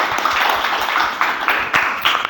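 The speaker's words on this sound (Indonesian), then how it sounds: "marilah kita berikan aplaus buat Murjani ya" An audience claps for a student guest at the close of an interview with a physical education teacher-training student. The applause is steady and fairly close, with dense overlapping claps lasting about two seconds.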